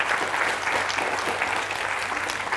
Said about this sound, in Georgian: აპლოდისმენტები გიორგის